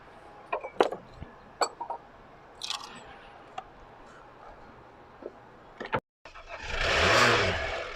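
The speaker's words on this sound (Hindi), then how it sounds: "अल्हम्दुलिल्लाह भाई गाड़ी स्टार्ट हो गई साल के बाद।" A car fitted with a new battery after sitting unused for a year in Makkah cranks and catches, a short burst of starter whir after scattered clicks and handling noises.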